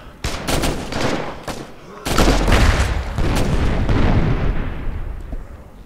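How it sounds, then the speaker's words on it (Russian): Grenade launcher in the video game State of Decay: Lifeline, with two loud, heavy blasts about two seconds apart, each followed by a rumbling, slowly fading tail. "Гранатомет — это бомба."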